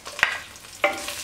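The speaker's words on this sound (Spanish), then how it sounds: "voy a empezar a sofreír aquí mismo cebolla" Sliced onion frying in a pan for a chicken stew, a soft steady sizzle broken by two sharp utensil scrapes or stirs, close and fairly quiet.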